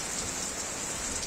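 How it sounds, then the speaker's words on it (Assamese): Heavy monsoon rain pours down steadily across the state during a storm, a dense continuous hiss of drops striking surfaces with no voices. "ৰাজ্যৰ বিভিন্ন ঠাইত মুখলধাৰ বৰষুণ হৈছে"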